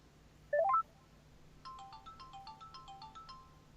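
A mobile phone ringtone plays alone: a quick rising chirp of notes, then a bright, repeating melodic jingle that carries on at moderate volume over a faint low hum.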